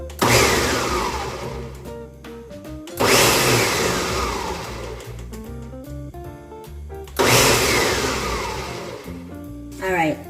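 A powerful countertop blender pulses tomato pasta sauce in three short, loud bursts, each roaring up and then winding down, with a person speaking between pulses.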